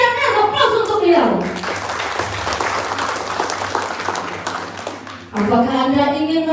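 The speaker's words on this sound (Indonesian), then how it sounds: "Aplaus untuk beliau." Seminar audience bursts into sustained applause, a dense wash of many hands clapping for several seconds between stretches of an amplified announcer's voice.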